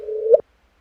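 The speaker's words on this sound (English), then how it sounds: "that is the sound of two black holes" A brief rising tone, the gravitational wave chirp of two merging black holes detected by LIGO, sweeps upward in pitch and ends abruptly in a short chirp, followed by silence.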